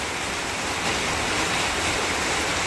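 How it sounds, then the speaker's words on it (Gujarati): Heavy rain pours down in a dense, constant hiss that fills the air evenly and loudly with no breaks. "જોરદાર વરસાદ પડે છે ભાઈ."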